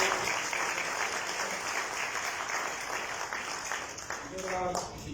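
Sustained applause from an audience at a book presentation in Lima, a dense even patter of clapping filling the room from start to finish, with a voice starting to speak near the end.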